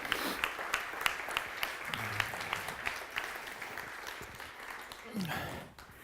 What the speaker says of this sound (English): Can we give Ed a round of applause